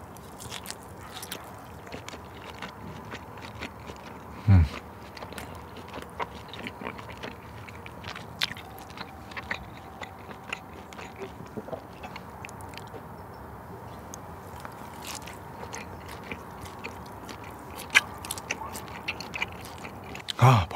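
Close, wet chewing and biting of grilled top-grade 1++ Korean hanwoo beef outdoors, soft squishy mastication going on steadily with a few sharper bites, quiet and with no talking.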